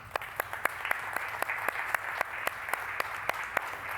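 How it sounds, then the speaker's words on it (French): A small audience claps at a French-language public event on information access rights, a thin, steady patter of individual hand claps rather than a roaring ovation, moderately close and without talk. "Je pense que ça vaut une main d'applaudissement."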